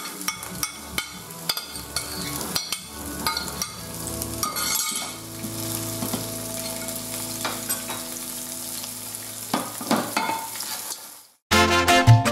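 Lobster juices and gelatin going into hot oil for a caldereta de langosta, a continuous close frying sizzle with rhythmic stirring and utensil clinks, ending in a brief pause and then a louder burst.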